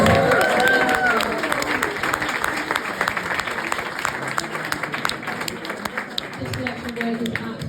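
Sustained audience applause fills the space, dense clapping with some cheering, loud and steady throughout, with a few voices audible early on.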